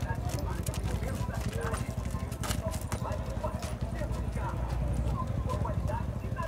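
Horse hooves clip-clop steadily on hard ground at a busy horse fair in Caruaru, Pernambuco, with a mare being shown, rhythmic and fairly close, while people talk over the trading crowd throughout.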